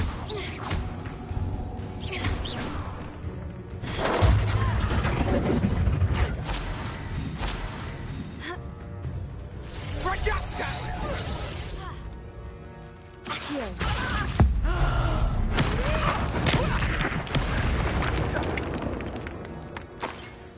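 Magic spells cast in the video game Hogwarts Legacy: repeated whooshing, crackling and crashing bursts with booming impacts and shattering debris over an orchestral score, while a voice shouts incantations.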